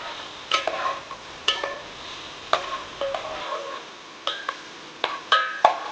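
Green peas stirred in a pan for desi-style spaghetti, with a soft sizzle under repeated scraping and clinking of a spoon against the pan at an uneven pace, no talking.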